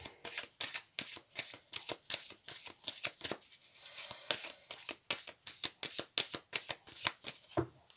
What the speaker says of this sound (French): Donc je vais recarter parce qu'il y en avait tout à l'envers.